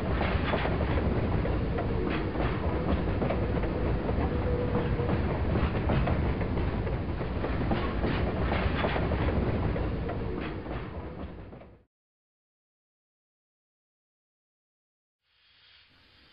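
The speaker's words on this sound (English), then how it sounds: "Alex steamed away to take the passengers to Prince Rupert" A steam train runs steadily along the rails with a continuous rumbling clatter for about eleven seconds, then cuts off into silence before a faint sound returns at the very end.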